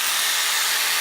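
A Bosch JS572EB jigsaw cuts through wood with a loud, steady, high-pitched buzzing rasp that holds unbroken throughout, close and alone.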